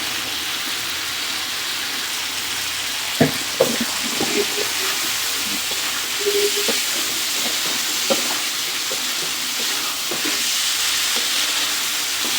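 Spices sauté with fried potatoes in a pan for puti fish curry, a steady loud hiss of frying punctuated by occasional knocks and scrapes of a spatula.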